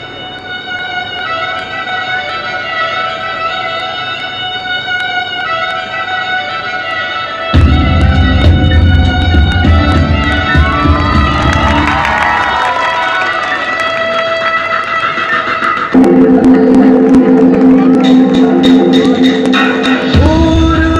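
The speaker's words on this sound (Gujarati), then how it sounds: "ખૂબ તાળીઓ સાથે સ્વાતિને આવકારીએ." A crowd at a village primary school inauguration cheers and claps to welcome a girl, a loud, continuous wash of voices that swells partway through, mixed with music playing throughout.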